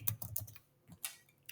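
Keys on a computer keyboard click in a quick burst of several presses, pause, then give a few more taps. The clicks are close and fairly soft, with no voices.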